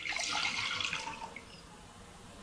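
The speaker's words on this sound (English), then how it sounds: "Add some water." Water pours into a pot on a cooker to boil egg noodles, a close, hissing gush that is loudest at first, then tapers to a softer trickle.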